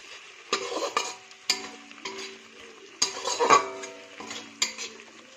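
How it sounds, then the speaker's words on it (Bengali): Tomatoes dropped into a pan of frying ground coriander, cumin, chili, ginger and green chili paste and stirred, with faint sizzling under several sharp scrapes and clinks of a spoon against the pan. "দিয়ে দিচ্ছি টমেটো।"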